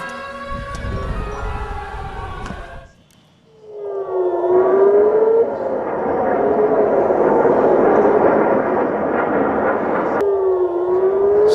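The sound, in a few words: air raid sirens wailing across Tel Aviv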